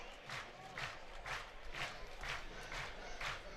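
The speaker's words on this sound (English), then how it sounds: "Crowd getting a little excited." A baseball stadium crowd at a Michigan versus USC game stirs with rhythmic rising cheers and chanting in regular swells, heard from a distance at low level.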